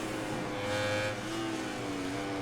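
A Suzuki motorcycle races in the MotoGP 2020 video game, its engine droning steadily and loudly, with pitch shifts as it revs through a close pass on another rider.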